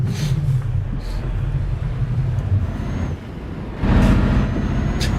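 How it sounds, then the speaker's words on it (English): A heavy truck in the driving game Euro Truck Simulator 2 brakes hard. Its deep engine rumble drops, then a loud burst of air brakes and road noise follows. "Talk about having to slam on the brakes then."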